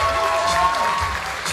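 Audience applause for the six finalists at the Miss Ziemi Michałowskiej 2014 beauty pageant, a short burst of dense clapping from a crowd under loud music.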